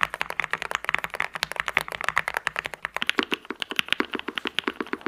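Rapid clacking keystrokes on an expensive mechanical keyboard, loud and close, in a fast uneven rhythm that shifts to crisper, more evenly spaced clicks partway through, with no talking.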